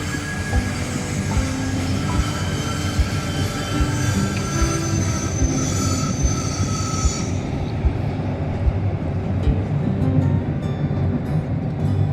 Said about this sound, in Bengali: লেকের পাশ দিয়ে ট্রেন যাচ্ছে।